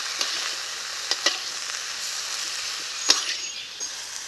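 Cut mango pieces simmering and being stirred in a pan for a Bengali fish and greens curry, a steady soft bubbling hiss with a few sharper scrapes of the spoon against the pan.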